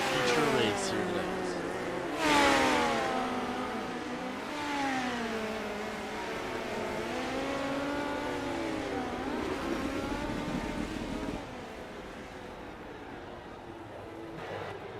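Midget race cars in an iRacing online race roar past in sweeping, pitch-bending engine whines, several cars overlapping and fading, with a commentator's voice running over the racing.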